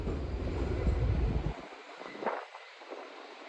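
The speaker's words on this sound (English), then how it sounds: "There's an M7 coming from the tunnel." An M7 commuter train comes out of a tunnel at Hunterspoint Avenue with a loud, heavy low rumble that fades abruptly after a second and a half, leaving wind noise and faint distant rail hiss.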